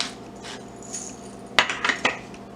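A utensil mixing guacamole in a bowl: soft mashing and stirring at first, then a quick run of sharp clinks and scrapes against the bowl near the end.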